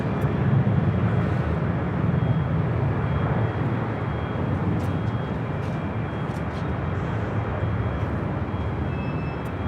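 Atlas Air cargo airplane at LAX, a steady low rumbling jet engine roar that stays loud and constant, with no voices heard.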